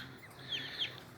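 Young Aseel chicks at a poultry farm give two brief, high peeps over a quiet background of farm noise.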